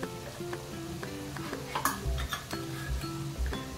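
Spices including turmeric powder fry and sizzle in a pressure cooker while a spoon stirs and clinks against the metal pot, under light background music.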